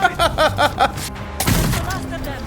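A Tanegashima matchlock gun fires in the Ghost of Yotei video game: a sharp, loud blast with a booming tail partway through, after a stretch of game voices and music.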